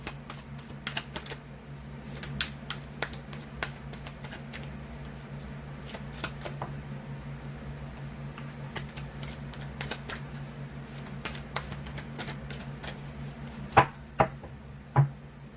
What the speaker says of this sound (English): trying to get these cards shuffled really good